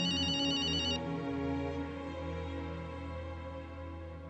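A telephone rings briefly at night indoors, a short electronic trill in the first second, then fading into a low sustained tonal background with no voices.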